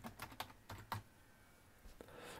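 Keys tap on a computer keyboard in a quick irregular burst, then a pause, then a few more soft taps, faint and close in a quiet room.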